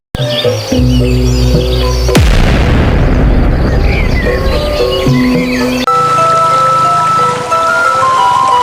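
A large boulder cracks and bursts apart with a sudden loud boom, then water gushes out in a dense, continuous rushing roar, all set against a steady musical backing.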